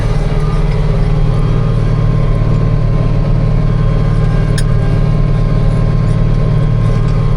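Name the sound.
tractor engine running while tilling field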